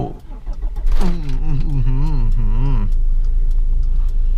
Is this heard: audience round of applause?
no